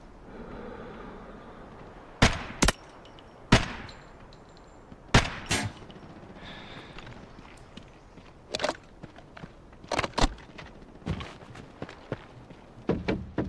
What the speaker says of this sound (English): Definitely sounds like there's shots down this way